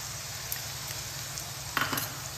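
Spice paste of Kashmiri chilli powder frying in a pan for a fish egg curry, a steady soft sizzle throughout with a few brief scrapes and clinks near the end, no talking.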